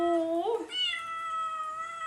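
A cat in an abandoned house meows close by, first with a short rising call and then with a longer, drawn-out wavering meow.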